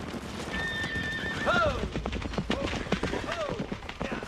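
Horses whinny loudly while hooves clop in an uneven rush nearby, a second neigh following amid the clatter.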